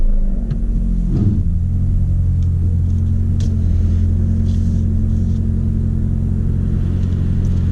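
A 2016 Ford Focus RS with a Mountune rear motor mount starts up and settles into a steady idle, a loud, close, continuous low engine rumble with a brief surge at the start.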